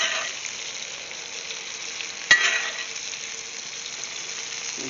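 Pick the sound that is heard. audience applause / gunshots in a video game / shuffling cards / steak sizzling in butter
steak sizzling in butter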